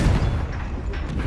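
Confringo fire spell blast in the Hogwarts Legacy video game, a loud, dense booming burst with a rumbling low end that fills the whole short moment without pause.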